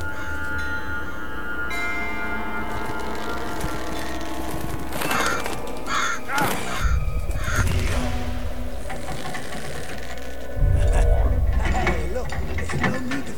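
Crows cawing in the video game Shadow of Mordor, harsh calls breaking through clanking mechanical sounds and game effects, with a louder thud near the end.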